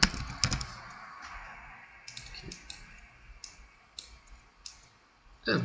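Keys tapped on a computer keyboard in short clusters of quiet clicks separated by pauses, close up and alone, ending with a louder burst of keystrokes.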